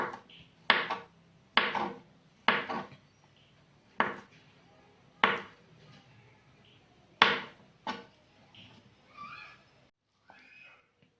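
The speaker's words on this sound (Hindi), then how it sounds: "6 से 8 केले जितने आप शामिल करना चाहें इनको कट कर लें।" Bananas being sliced on a board, about nine crisp separate knife chops at an uneven pace, close and fairly quiet, with faint clattering near the end.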